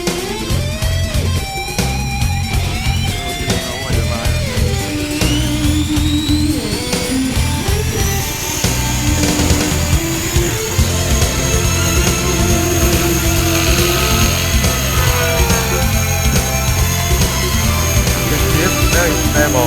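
An RC helicopter hovers with a loud, steady whine and buzzing rotor drone. The pitch swoops upward as it spools up, and the sound then holds near and constant.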